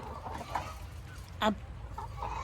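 A few soft chicken clucks against quiet farmyard ambience, with one sharper, louder cluck in the middle.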